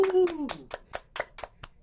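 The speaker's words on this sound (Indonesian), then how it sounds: "Tepuk tangan dulu dong." A short burst of hand clapping, several quick claps in an even rhythm, after a brief spoken voice at the start.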